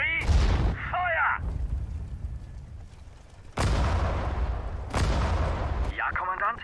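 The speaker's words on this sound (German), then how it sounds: "Artillerie, Feuer!" Artillery fires in the Sudden Strike 4 war game: heavy booms with rolling rumble, three big blasts spread across the clip, mixed with short game voice lines and chirping effects.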